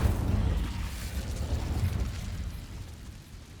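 Incendio fire spell burning spiders in Hogwarts Legacy: a whooshing, crackling burst with deep rumble that starts loud and slowly fades over a few seconds, no voices over it.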